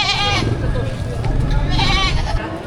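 Goats and sheep bleat amid the busy crowd of a Padre Garcia, Batangas livestock market selling cattle, goats and carabao, with repeated calls rising over steady background talk and haggling throughout.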